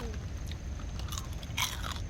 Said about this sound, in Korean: 아빠 과자 소리인데, 완전?